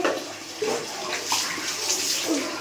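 Water splashing and pouring over a person's body during a bath indoors, a steady wash of close splashes with a few louder surges, no talking.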